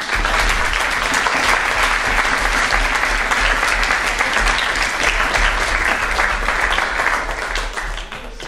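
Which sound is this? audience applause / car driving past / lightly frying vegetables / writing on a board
audience applause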